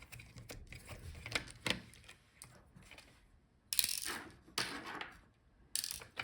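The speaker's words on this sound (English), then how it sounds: "So unscrew the screws." Small screws being unscrewed from the fan of a Lenovo Flex 7 14IRU8 laptop, with faint clicks, ratcheting ticks and several sharper metallic taps and scrapes scattered across a quiet background.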